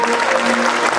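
Dense audience applause at a Christmas concert by a wind band in Slikkerveer, clapping for the conductors, loud and continuous throughout the brief moment.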